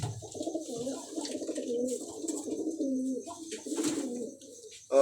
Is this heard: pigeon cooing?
yes